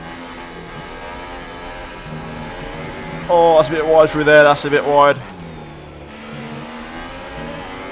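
F1 race car engine in the F1 2018 game at the Italian GP, revving hard in a loud rising-and-falling burst mid-clip over a steady engine drone, with someone talking throughout.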